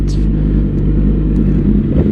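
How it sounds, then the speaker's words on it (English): A Yamaha R6 sport motorcycle with a quick shifter runs steadily at speed, its engine droning loud and close in an even low rumble with brief shift blips, no speech over it. "I like the way the quick shifter works"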